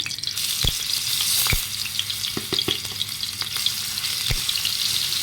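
Garlic sizzling steadily in hot fat in a pan for a spinach dish, a continuous close frying hiss broken by a few sharp clicks of a spoon stirring.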